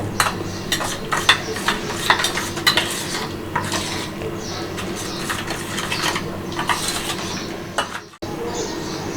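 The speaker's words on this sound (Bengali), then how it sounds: "দিয়ে সব উপকরণ খুব ভালো করে মিশিয়ে নেব" Ingredients for steamed prawns in taro leaves are mixed with mustard oil in a bowl: repeated close, wet scraping and clinking strokes in an uneven rhythm, broken by a sharp clunk near the end.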